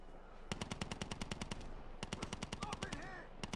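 Automatic weapon fire in a video game rings out in quick, evenly spaced shots, forming two rapid bursts with faint voices in the background.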